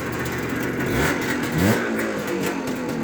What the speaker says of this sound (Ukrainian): Набираю обороти.